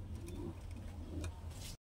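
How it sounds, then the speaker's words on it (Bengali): A Madrasi pigeon coos softly in low, rounded notes, close by against faint background clatter, before the sound cuts off abruptly. "এটা মাদা, মাদা পায়রা, তাই তো?"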